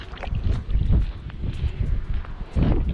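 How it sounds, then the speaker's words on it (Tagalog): Strong, gusty storm wind in snowy Ilulissat, Greenland, buffets the microphone in loud, uneven roaring surges, with no one speaking. "Malakas hangin."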